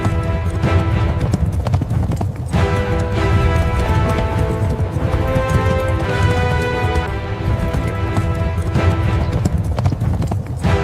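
Several horses gallop with loud, continuous clip-clopping hooves, dense and driving, mixed with music and an occasional whinny.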